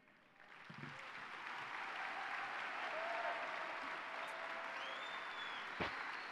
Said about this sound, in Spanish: Muy fuerte ese aplauso para Padre Guillermo.